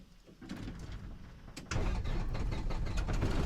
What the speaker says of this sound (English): before starting the engine